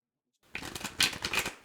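Tarot cards from a deck rustle and riffle up close after a moment of silence, a short papery burst of card handling.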